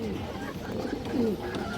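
Pigeons coo softly in low throaty warbles, a few overlapping calls nearby over a quiet background hum.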